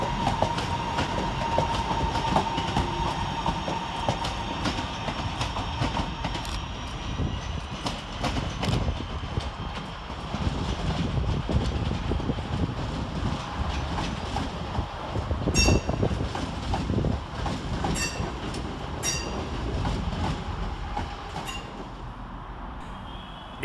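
Northern Rail class 323 electric trains arrive and depart at Manchester Piccadilly: a steady rail rumble with clickety-clack of wheels over joints, scattered metallic clanks and brief squeals, at moderate distance.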